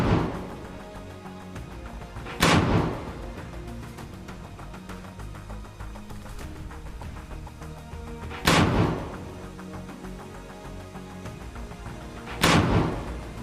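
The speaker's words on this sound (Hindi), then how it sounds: "हमास के कुछ लड़ाके हरियाली में छिपकर लॉन्चर में रॉकेट भरकर दनादन दाग रहे हैं" Three heavy booms from rockets fired out of a launcher by Hamas fighters hidden in greenery, spaced several seconds apart over a continuous rumbling background.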